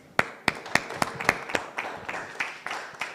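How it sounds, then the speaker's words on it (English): A small audience gives a short round of applause at a sport and peace leadership event, scattered distinct claps in an uneven rhythm that soon thin out, heard in a room. "Dr. Vic, for a round of applause"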